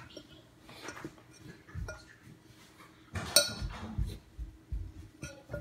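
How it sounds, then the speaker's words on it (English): A metal fork scrapes and clinks against a bowl while mixing salt into flour for homemade piecrust, soft irregular taps and scraping with a few sharper clinks, close and fairly quiet, no talking. "So now you gotta mix it up. Use your fork."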